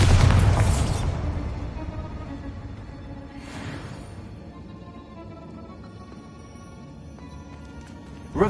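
A Bombarda blasting spell from the Hogwarts Legacy video game detonates with a loud booming burst at the start, its rumble decaying over several seconds, followed by a fainter whooshing swell and a soft pop near the end.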